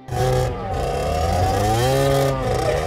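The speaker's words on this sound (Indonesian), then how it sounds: "dikagetkan dengan suara motor Diablo yang hendak kabur" A motorcycle engine drones loudly and steadily nearby, its pitch rising and falling as the throttle is worked, with no break in the roar.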